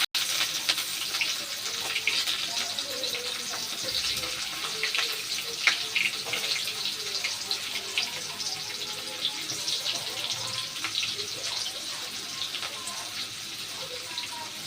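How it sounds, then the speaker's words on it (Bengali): Ginger and garlic fry in a wok with a little oil left over from frying chicken for chilli chicken. A steady, close, even hiss of sizzling runs throughout, with faint scraping and no talk. "একটু ভাজা ভাজা করে নেব।"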